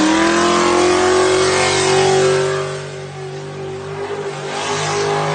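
A 700hp Mustang with an LS engine revs hard, a loud, steady, throaty roar that rises and then eases off a little before surging again.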